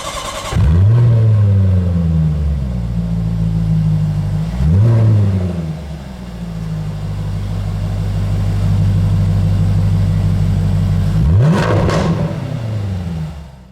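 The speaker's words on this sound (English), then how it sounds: "the new valve-controlled titanium and Inconel exhaust that saves 16 kilograms. Let's hear how it sounds." A 2019 Jaguar F-Type SVR Convertible revs hard several times through its valve-controlled titanium and Inconel exhaust, the loud exhaust rising and falling in sharp bursts with a sustained roar between them, close by.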